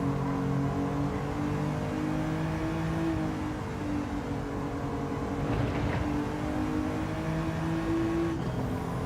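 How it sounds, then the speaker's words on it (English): A BMW race car running on sports tyres around the Bathurst circuit in Gran Turismo 7, with a steady, continuous engine drone and gear-whine holding close and loud throughout, with a slight shift in pitch near the end. "We're running the BMW MR2 on sports tyres around Bathurst"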